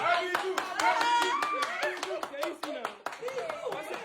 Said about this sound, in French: On applaudit là.